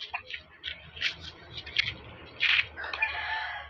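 Chickens cluck and a rooster crows, fairly soft and a little distant, with short scattered calls over a quiet outdoor backdrop.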